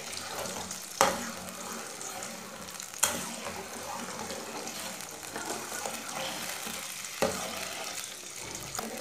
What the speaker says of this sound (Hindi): चीनी को अच्छी तरह मिक्स कर लेंगे ऑयल में।